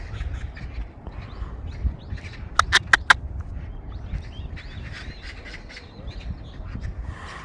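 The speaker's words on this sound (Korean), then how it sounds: "까치들이 난리가 났네 진짜로." Magpies in Yongsan, Seoul squawk and chatter noisily outdoors: scattered harsh calls rise over a steady bed of broadband city and wind noise, with a quick cluster of sharp, loud clicks near the middle.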